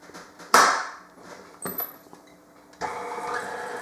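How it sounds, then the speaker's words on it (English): Kitchen electric mixer working butter into a crumbly mix for oatmeal brittle cookies: a few clunks and clicks, then the motor starts and whirs steadily and fairly close. "I'm going to put it on the mixer and just mix it until it gets slightly crumbly."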